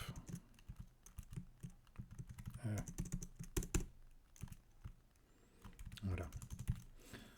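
Computer keyboard clatters with quick, irregular keystrokes while code is typed, faint and close, under someone speaking French.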